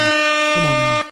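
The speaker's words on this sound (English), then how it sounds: "Air horns for the July." A loud air horn sound effect blasting in one sustained, bright honk of about a second that cuts off abruptly.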